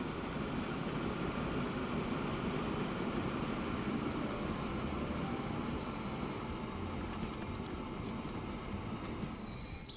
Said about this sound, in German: Also, Zug fährt ein.